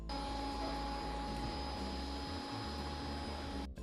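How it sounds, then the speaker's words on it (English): A Bissell SpinWave wet-and-dry robotic vacuum runs with a steady, close motor drone and whine, holding an even level without pauses until a brief dip at the very end, with no talking. "since it's an automatic robot vacuum, it requires almost no work on your end"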